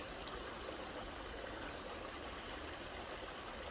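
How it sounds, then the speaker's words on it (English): A small stream running down toward the Pacific coast near a beach trail, with a steady, faint trickling wash of water throughout and no voices. "Trail goes down past a little stream on the way,"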